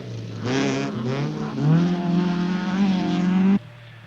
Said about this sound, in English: Russell Brooks, one of the most promising British drivers and already looking impressive in his Escort